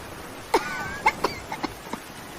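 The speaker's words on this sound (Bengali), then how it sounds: "কাশিটা বড্ড বেড়েছে" An animated mother coughing in a Bengali village cartoon story: a handful of short, fairly faint coughs spread over about a second and a half, with quiet background between them.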